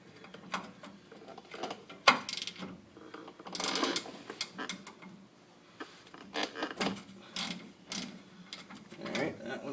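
A ratchet working on a 24 mm oil fill plug on a 2005 Toyota Tundra 4.7L, with close clicking ratchet bursts and metallic clanks coming in irregular spurts.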